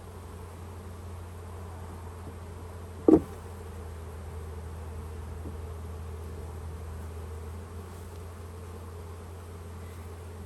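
A swarm of over 20,000 honey bees caught in a swarm trap, heard as a steady low hum that carries on throughout, broken by one brief knock.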